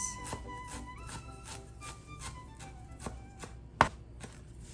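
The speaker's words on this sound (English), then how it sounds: "Got some fresh dill. Give that a nice mince." Kitchen knife mincing fresh dill on a cutting board: a dozen quick, evenly spaced taps, moderately close and fairly quiet, plus one sharper knock near the end.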